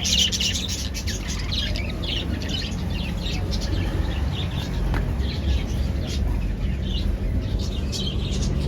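Parrots for sale at Rajkot's Sunday Gujari street market chirp and tweet continuously, with busy, repeated calls over a steady murmur of crowd and market noise.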